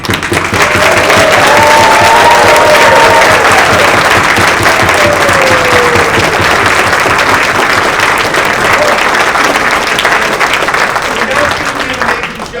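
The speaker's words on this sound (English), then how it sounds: "give them a rousing round of applause" A theater audience at a community radio-play production of "It's a Wonderful Life" gives a loud, sustained round of applause, dense clapping filling the room for several seconds before slowly thinning out.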